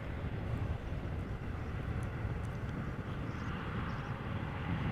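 Embraer jet at Amsterdam Schiphol Airport, a steady broadband engine roar holding at constant loudness throughout, with no talk over it.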